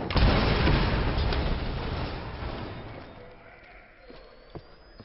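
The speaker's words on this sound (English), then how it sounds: "Didn't hear that explosion?" Explosion in Tomb Raider, a loud booming blast at the start that rolls and fades into a long decaying rumble, with a small thud near the end.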